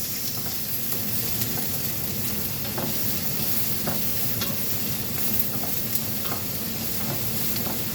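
Food sizzles and crackles steadily in a hot pan while being stirred during sautéing, a dense continuous frying hiss with occasional sharper pops, close and even throughout.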